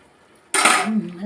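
Boiled rice for biryani is scooped from one cooking pot into another, giving a sudden clattering scrape of a spoon against metal that starts abruptly and then fades into softer clinks and rustling.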